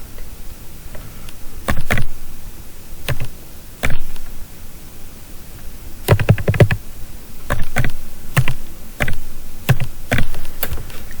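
Someone enters a one-time passcode on a computer keyboard, with sparse individual key clicks and short bursts of taps spread out across the span against a quiet room background.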